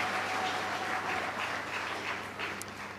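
An audience at a World Press Freedom Day ceremony applauds continuously, a broad, even wash of clapping that tapers slightly toward the end.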